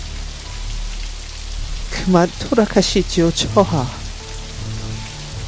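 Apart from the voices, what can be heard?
rain falling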